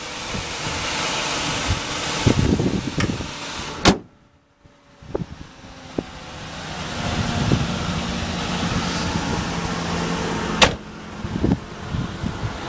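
A 2000 Ford Explorer XL's air conditioning blows as a steady broadband rush inside the cabin, broken by a sharp click, a brief near-silent gap, and a few thumps and knocks.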